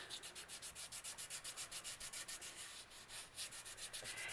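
A fingertip rubs firmly back and forth over paper during an image transfer, making a quiet, rhythmic scratchy swish that repeats evenly around four to five strokes per second, with no voices.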